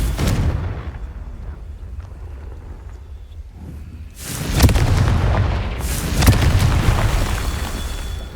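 Confringo spell explosions in the video game Hogwarts Legacy, with two loud booming blasts a couple of seconds apart following a quieter stretch of rumbling background.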